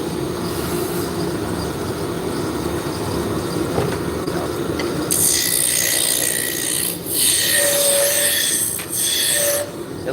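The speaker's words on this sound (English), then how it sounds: "making a magic wand is spindle turning. This is spindle turning." Wood spindle for a magic wand spinning on a lathe, a steady whir with rough rubbing and rasping as a tool or abrasive is pressed against it, growing brighter and louder partway through.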